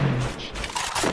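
Gunfire from a UMP or SCAR in the mobile battle game Free Fire, a short burst of loud game shots layered with other game effects in a brief, busy moment.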